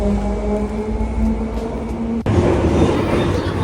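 A London Underground metro train runs with a steady low rumble and faint tonal whine, then changes abruptly to a louder, rougher roar partway through, with no clear talk over it.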